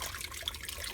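Boiling water poured over a plate weighing down stuffed vine leaves (dolma) in a pot, a steady close liquid splashing and trickling that runs continuously for about a second.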